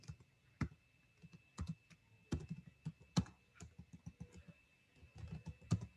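Keys on a computer keyboard are typed in short irregular bursts of sharp clicks, with a few louder isolated keystrokes, close and alone with no talking.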